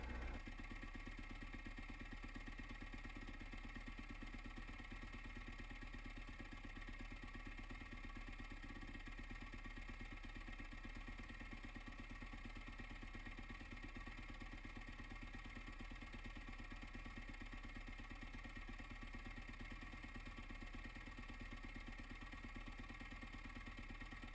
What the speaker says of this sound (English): I also start the bike to dry the engine components that you can't reach.